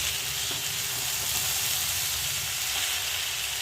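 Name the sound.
cabbage and Gobindobhog rice sizzling in pan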